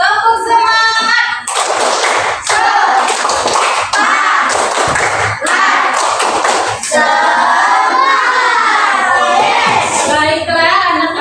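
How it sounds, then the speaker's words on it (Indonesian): A school class performs the rhythmic 'tepuk semangat' spirit clap. Children chant loudly in unison over patterned bursts of hand claps, with short pauses between phrases in a lively classroom. "Tepuk semangat dulu dong"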